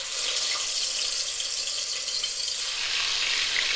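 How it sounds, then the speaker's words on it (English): Chicken pieces fry in a hot pan for a spicy jaal fry, giving a steady, loud, continuous hiss and sizzle with no talking over it. "Now I'm going to fry these chicken."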